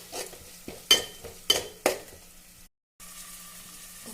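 Ginger garlic paste with a pinch of turmeric being stirred and sizzling in a pan, with several sharp spoon scrapes and clinks over a soft frying hiss, then a brief cut to quieter sizzling.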